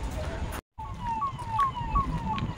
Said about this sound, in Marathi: ते बघा तिकडं तुम्हाला सायरनचा आवाज येत असेल.